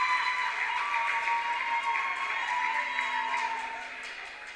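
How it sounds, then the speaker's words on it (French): Steady audience applause at a school quiz semifinal between two colleges, moderately loud throughout and tapering off toward the end, with no talking over it. "On applaudit, s'il vous plaît."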